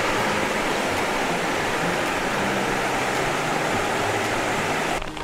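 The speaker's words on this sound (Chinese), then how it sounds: "这条河的河水就是流入大欖涌水塘的。" A rocky hillside river in Hong Kong flows downstream toward Tai Lam Chung Reservoir. The water gives off an even, full rushing roar that holds steady throughout with no talking, and there is a slight shift in the sound right at the end.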